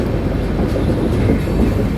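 The Tambaram express rumbles along its rails on the approach to Madurai junction, a loud, steady rolling roar with faint rhythmic wheel clatter from inside the moving coach.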